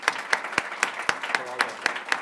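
An audience at a ribbon cutting for a career and innovation center claps, with a few sharp, evenly spaced claps standing out above a soft steady patter of applause.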